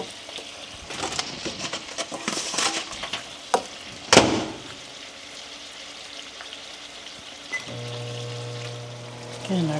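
Salmon frying in a pan gives a steady sizzle with scattered crackles and a few utensil clicks, while a person talks over the cooking near the end.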